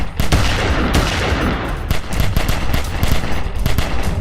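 A shootout in a low-budget Batman film, with loud, continuous automatic gunfire and a rapid run of sharp shots heard up close across the whole stretch.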